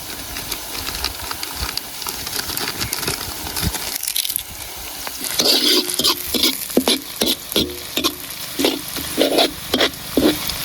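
Bay leaves sizzling in hot oil in a pan during village cooking, a constant frying crackle followed by rhythmic scraping and clattering strokes of a spoon stirring, close and loud, no talking.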